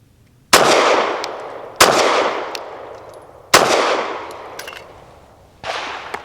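A SAR9 SC Gen 3 compact pistol fires Winchester Defense 147 grain hollow point rounds: four loud, sharp shots at uneven intervals, each with a ringing outdoor echo that trails off.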